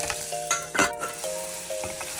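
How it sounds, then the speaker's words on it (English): Fennel, yellow onion and garlic sweat in a pan with a steady soft sizzle, while a utensil stirs and clinks against the pan in a few brief taps. "we're just going to sweat off some fennel, yellow onion, and garlic."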